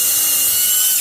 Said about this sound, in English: I'll drill again